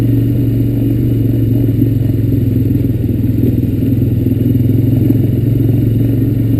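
Honda Recon ES ATV engine on a woodland trail ride in the evening, a loud, steady low rumble with constant rattling and clatter from close by throughout, no talking.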